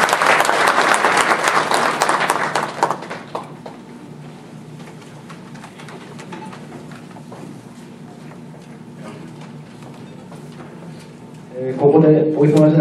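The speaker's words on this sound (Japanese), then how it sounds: "皆様、改めて盛大な拍手をお願いします。" A burst of loud applause from a lecture audience fades out after a few seconds, followed by a quiet room and then a voice begins speaking.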